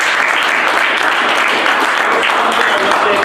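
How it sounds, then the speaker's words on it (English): Dense, steady applause from an audience at an Iron Dog rookie workshop, filling the room at close range for the whole stretch with no pauses. "I think a round of applause is deserved for these guys."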